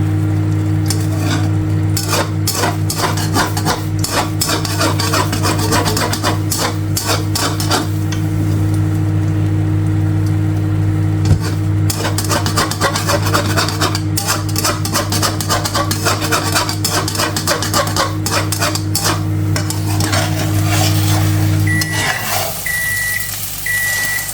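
Eggs being scrambled in a pan: a metal utensil clatters and scrapes quickly and steadily against the pan, with a constant low hum behind it and a few short beeps near the end.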